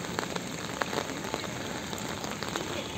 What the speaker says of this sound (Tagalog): Ayun, umuulan.